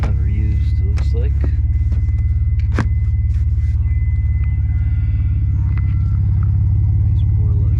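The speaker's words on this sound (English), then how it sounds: "Nice Borla exhaust." Deep, steady idle rumble from a 1995 Dodge Stealth R/T twin turbo with a Borla exhaust, loud and close, with someone talking over it.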